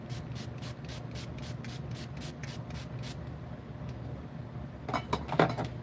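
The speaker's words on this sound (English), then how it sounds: "So I finish my makeup off with a setting spray." Makeup setting spray mists in a rapid run of about a dozen short, even sprays close to the mic, followed after a pause by a few clinks and rubbing sounds.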